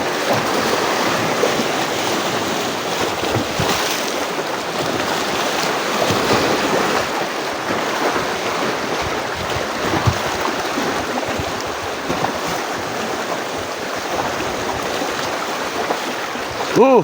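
Continuous roar of ocean waves and surf at Calubacan, Cardona, Rizal, loud and close, with wind noise mixed in and no clear speech.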